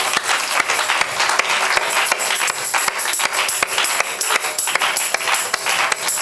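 A church congregation claps loudly and steadily for the Lord, a dense sustained wash of applause with sharp individual claps throughout.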